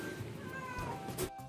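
Rescued cat meowing from a basket tied to a motorbike, one drawn-out close cry that rises and then breaks off, over a faint background murmur.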